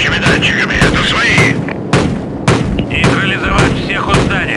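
Gunfire in Call of Duty 4: Modern Warfare, loud, close shots and heavy bursts that crack repeatedly in irregular clusters, with voices shouting in between.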